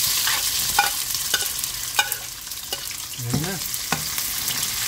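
Onions for chicken dinuguan fry in a pan with a constant sizzle, punctuated by several sharp stirring clicks and scrapes at close range; a voice speaks briefly.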